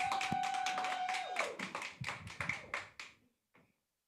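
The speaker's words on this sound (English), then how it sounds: "Clap it up, clap it up, clap it up" A small group claps in a steady rhythmic beat, roughly four claps per second, fairly faint, with a brief held tone at the start; the claps stop abruptly near the end, leaving near silence.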